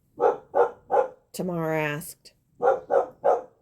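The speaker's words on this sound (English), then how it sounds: "Sorry about the dog." A dog barks in short repeated bursts, three quick barks, a drawn-out whining howl, then three more barks, close and loud, with a voice reading aloud briefly.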